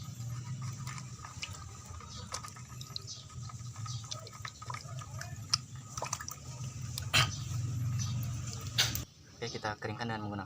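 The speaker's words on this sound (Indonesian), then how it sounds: "kita cuci pistonnya sampai bersih dan menggunakan air" Water splashing and trickling while a brake caliper piston is rinsed clean in a vocational school workshop, a steady wash with occasional louder gushes and a brief pause near the end.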